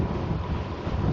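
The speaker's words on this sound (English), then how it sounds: "It's really windy out here today" Steady wind buffeting a microphone outdoors on a trail ride with a 2018 RadMini electric fat-tire folding bike, a continuous low rumble that stays loud and unbroken throughout, with no voices.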